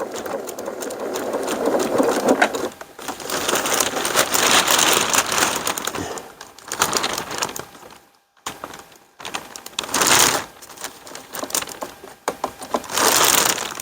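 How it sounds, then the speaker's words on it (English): A sewing machine stitches tail loops onto a fabric piece in several rapid, whirring bursts separated by short pauses, close and alone. "I don't sew down the length. I just sew right here."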